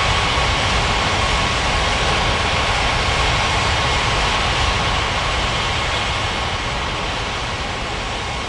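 Engines of a Thai jet airliner taxiing to runway 35 right give off a loud, steady roar and whine that holds constant throughout, with no voices.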